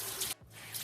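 Tap water runs steadily onto a beauty blender makeup sponge, a close, continuous splashing hiss that breaks off briefly in the middle and then resumes.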